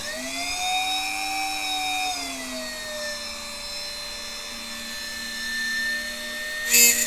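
Power drill whining into an old pilot hole in an IBM Model M keyboard, a steady high motor tone dipping slightly under load, with a brief louder burst near the end.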